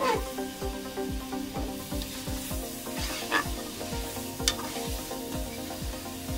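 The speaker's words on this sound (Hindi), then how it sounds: "इसको अच्छी तरह हम इसके अंदर ऐसे फ्राई करेंगे।" Chicken with arvi (taro root) sizzles steadily in a pot of hot oil, with a regular beat of scraping stir strokes cutting through the continuous crackle, close and fairly loud.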